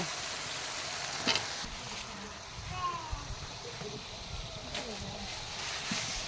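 Eggplant dropped into spiced oil in a home pan, giving a soft, steady sizzle with a few stirring scrapes and light splatter, talk heard faintly over it.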